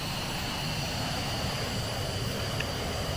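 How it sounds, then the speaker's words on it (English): Jet engines of an A-10 Warthog spool up in the VTOL VR flight game, a steady dense whine and roar with a high tonal hum, constant in level and free of speech. "I'm just going to turn on the engines."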